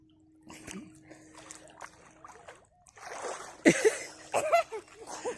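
A person dips into cold pond water, making a couple of sharp, close splashes in the second half after a quiet stretch with faint voices and small water movements.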